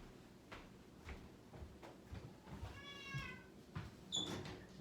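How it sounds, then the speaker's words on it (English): A Maine Coon cat lets out a drawn-out meow near the middle, and a shorter high cry follows, among soft indoor knocks and household shuffling at low volume. "He's a Maine Coon cat"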